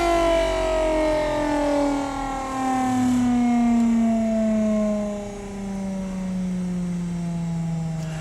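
A small electric motor spins at low speed with a smooth whining hum whose layered tones slowly glide downward and settle, steady and close, with no talk.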